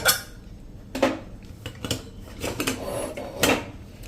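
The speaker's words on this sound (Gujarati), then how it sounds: "આપણે કુકરનું ઢાંકણ બંધ કરી દેવાનું છે" Several sharp metallic clanks and scrapes of a heavy pressure cooker lid being handled and fitted onto the cooker, close and irregular, with no talking.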